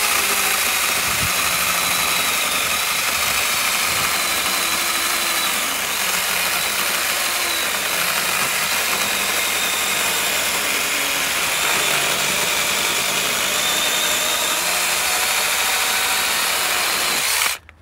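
A continuous high-pitched motor whine of a small cordless chainsaw running steadily for many seconds while cutting, loud and close, cutting off at the end.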